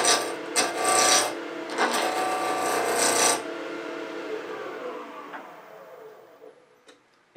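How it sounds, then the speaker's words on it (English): A spindle roughing gouge makes a peeling cut on a spinning wood workpiece at a lathe, a loud steady rasping shave for about three seconds that then fades into a quieter dying whir. "you can come down with that peeling cut"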